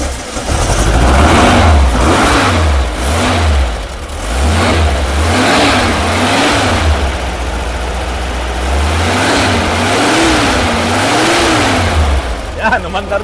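A Volkswagen Super Beetle engine starts and runs, repeatedly revving up and dropping back in loud, close, rhythmic surges over a rough idle, with a voice talking briefly beside it.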